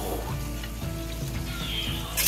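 Chicken for gyro souvlaki browns in a hot pan as its juices cook down, giving a steady, close frying sizzle with no talk.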